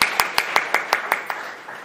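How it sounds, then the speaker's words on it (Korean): Scattered hand claps from a small audience at a Korean policy discussion forum welcoming the final panelist, about ten distinct claps in an uneven rhythm, fairly close and fading out. "박수로 맞이해 주시기 바랍니다"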